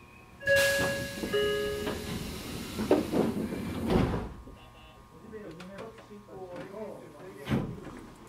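Inside a Shin-Keisei Railway commuter train bound for Keisei-Tsudanuma: a door thuds shut, then the carriage hums and rattles into motion on elevated track while a recorded announcement plays over it.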